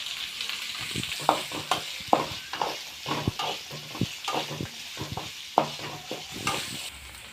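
Green chillies and onion fry in a pan for rava upma while a spoon stirs them, producing repeated sharp scrapes and taps over a soft continuous sizzle, close and clear.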